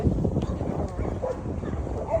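Several dogs bark and yip outdoors, at a distance and fairly faint, under a steady murmur of voices and background noise on a farm visited during the Dashain festival.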